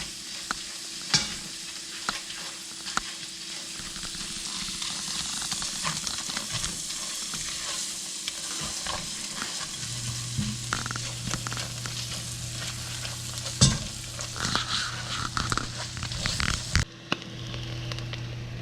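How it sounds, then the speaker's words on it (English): Butter melting and sizzling over chorizo in a pan, a soft continuous fry with scattered scrapes and clinks as it is stirred around, steady and close without talk. "Throw that in, let it melt over the chorizo. Stir that around so it melts."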